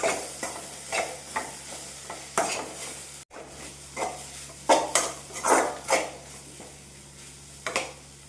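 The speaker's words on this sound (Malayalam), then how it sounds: "ഇനി നമുക്ക് ഇതൊന്ന് ഇളക്കി നോക്കാം" Cheema chakka (breadfruit) thoran being stirred in a pan, a metal spoon scraping and clinking against the pan in irregular strokes over a faint sizzle, close and fairly quiet.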